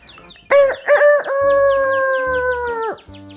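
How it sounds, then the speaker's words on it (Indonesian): A rooster crows once, loud and close, a long harmonic cock-a-doodle-doo that swells and holds for over two seconds before cutting off, with faint chirping birds in the background. "Betul, suara ayam jago."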